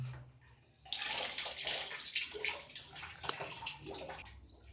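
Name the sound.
water draining out of an electric geyser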